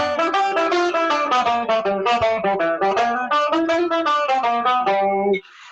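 A melodic instrument runs a bluegrass scale built from the pentatonic with added flat third and flat seventh blue notes, a steady stream of clear, evenly paced notes played alone before stopping abruptly.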